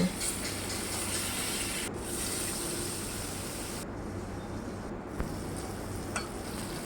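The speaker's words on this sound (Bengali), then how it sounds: "মাছগুলো একে একে ভেজে নেব" Marinated pangasius fish pieces, coated in salt and turmeric, fry in hot oil with a steady, even sizzling hiss that continues close and unbroken throughout, with no voices.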